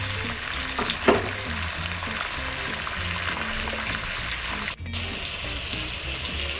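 A splash of water poured into sizzling bain fish curry in a pan in a Bengali kitchen: continuous close frying hiss, a brief splashy burst near the start and a short dropout later, with no talking.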